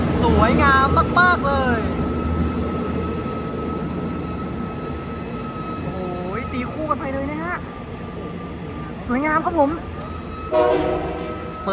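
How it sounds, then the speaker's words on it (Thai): Special train number 7 bound for Chiang Mai passes on the Thai railway, its horn sounding several times over a steady rumble of rolling wagons, loud and fairly close, with people talking underneath. "ขณะเดียวกันขบวน 7 ออกมาแล้วนะครับผม ไปทางเชียงใหม่"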